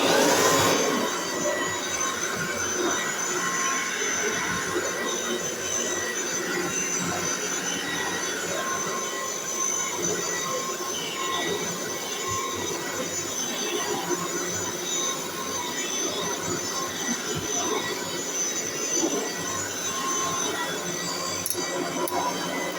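A 1962 Kirby vacuum cleaner runs steadily after belt maintenance, a loud continuous motor whine and airflow roar with a high-pitched squealing edge, holding constant throughout with no talking.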